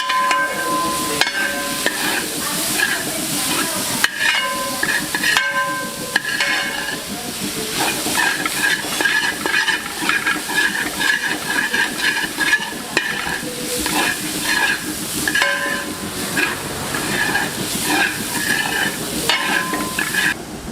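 Shark thoran with grated coconut cooks gently over a low flame, giving a steady soft sizzle with ongoing stirring scrapes throughout, close and moderately loud, with no talking.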